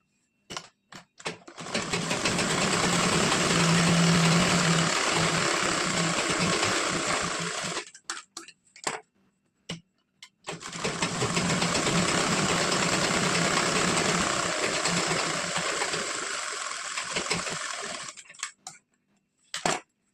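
A sewing machine stitches a princess-cut blouse in two long, fast, even runs of rattling needle noise, each stopping with a few short bursts, close and loud.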